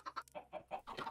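Chicken clucking in the Minecraft video game, a few short repeated clucks in quick succession, clear and close with no talking.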